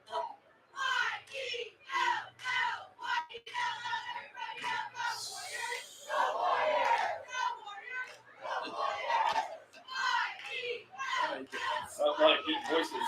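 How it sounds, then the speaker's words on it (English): A crowd of deep voices chants a rhythmic opening cheer at a high school football game between the Dayton Christian Warriors and Worthington Christian, delivered as shouted phrases in bursts with brief pauses between them. "We're doing an opening cheer."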